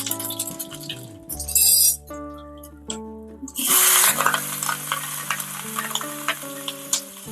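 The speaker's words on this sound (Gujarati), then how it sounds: "તો વઘાર માટે આપણે તેલ મૂકી દીધું છે। તો આની અંદર આપણે જીરું એડ કરશું।" Cumin seeds are dropped into hot oil for tempering while making a spiced sweetcorn chevdo. Two sharp bursts of hissing sizzle rise and then settle into a steady crackle, over background music.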